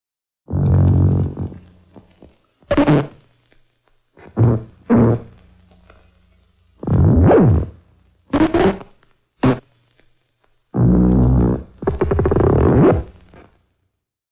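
Hand-drawn film soundtrack played back on a Moviola, a miniature movie projector, giving a series of short buzzy, growling bursts and blips separated by silences, each with a different rough, synthetic tone.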